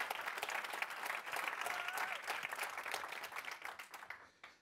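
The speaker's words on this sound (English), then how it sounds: "let's applaud them" Audience applause at a professional bartending competition final fills the room, a dense sustained clapping crowd at steady volume before thinning and fading out at the end.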